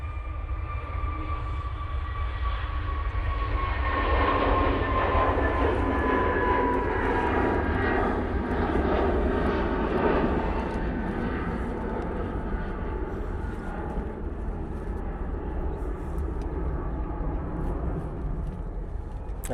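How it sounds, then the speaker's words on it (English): A Jet2 Airbus A321neo takes off at Manchester Airport in low visibility, its engines a loud, continuous roar with a rising whine that holds steady throughout, heard alone from nearby. "A321 Neo now blasting out."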